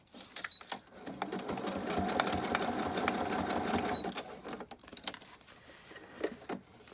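A sewing machine runs in a steady whirring burst for about three seconds while stitching fabric covers for a junk journal, with scattered clicks and handling noises before and after.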